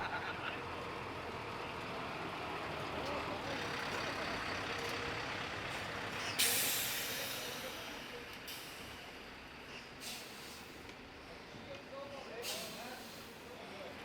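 A parade float truck arrives at the Zurich Street Parade, its engine rumbling beneath crowd noise and talk, with a sharp air-brake hiss about midway and further brief bursts later.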